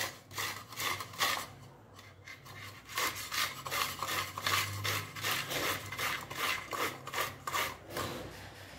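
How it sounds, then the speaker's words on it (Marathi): A halved sweet corn cob is grated by hand, giving close, rhythmic rasping strokes that repeat steadily with a short pause early on. "आता हे स्वीट कॉर्न मी घेतलेला आहे, त्याचे 2 तुकडे केलेले आहेत आणि आता हे किसून घ्यायचे आहे"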